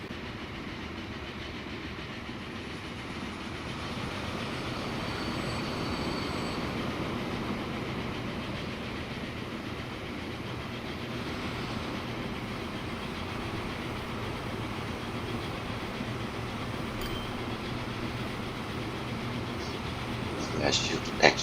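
A train running on rails in the video game Transport Fever 2 gives a steady, even rumble throughout, with someone talking over it.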